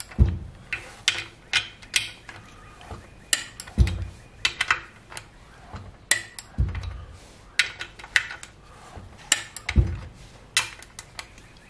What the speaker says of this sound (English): these get torqued to 16 foot-pounds